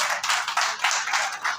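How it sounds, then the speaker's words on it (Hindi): An audience at a journalists' election in Rawalpindi Islamabad claps in a short, moderately loud round of applause with uneven pulses. "तालियां बजानी चाहिए जी, हौसला अफजाई करनी चाहिए"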